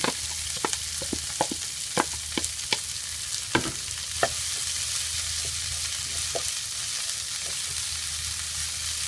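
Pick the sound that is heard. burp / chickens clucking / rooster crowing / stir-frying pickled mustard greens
stir-frying pickled mustard greens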